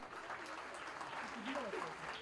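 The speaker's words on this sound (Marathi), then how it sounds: "टाळ्या वाजवायच्या आहेत" Steady applause from a crowd at a Mumbai Police event promoting a film song, a continuous wash of clapping with some voices mixed in.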